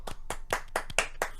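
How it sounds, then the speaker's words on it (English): A few close single claps, about six evenly spaced hand claps in a quick rhythm, from a small podcast group cheering a guest, with no talking. "give him a round of applause for that"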